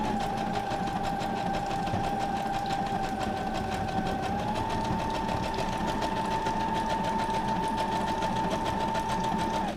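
A sewing machine stitching a paper journal card made from scraps, running in a steady continuous whir with a constant motor hum that shifts pitch slightly midway, close and alone.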